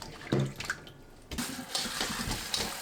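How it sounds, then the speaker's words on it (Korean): Salted cucumbers rinsed lightly in cold water, with splashing and running water sounds that come in short bursts, pause briefly, then carry on as a steady wash of water. "30분 절인 오이는 찬물에 가볍게 한번 헹궈주세요."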